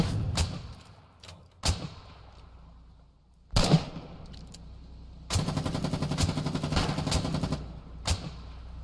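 Rockets launched skyward during a Foxhole video game battle, with separate sharp thumping blasts followed by a long, dense rattling salvo of rapid fire, loud and close.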